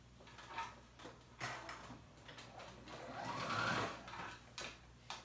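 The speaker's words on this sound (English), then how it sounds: "I'm just doing a straight stitch, 1/8 of an inch from" A sewing machine runs a straight stitch along the edge of fabric for paper bag pants, quiet and close, with short bursts of motor whirring and needle clatter broken by brief pauses.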